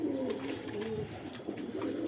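A captive wild pigeon coos in low, throaty rolling phrases, close and fairly steady, with no talking.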